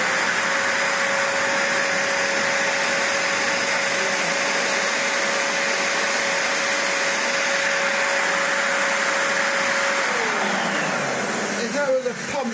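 A Vax Platinum Power Max carpet washer with a fault delivering no water to the floor head runs close by with a loud, steady motor whine and airy rush, then winds down at the very end.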